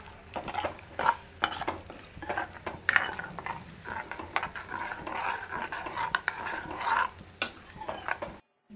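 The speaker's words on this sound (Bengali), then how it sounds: "হালকা ভাজতে হবে, বেশি ভাজার দরকার নেই।" Cashews fry lightly in ghee for Gobindobhog rice pulao as a spoon stirs them, giving a soft, uneven sizzle under frequent scraping, clinks and taps of metal on the pan.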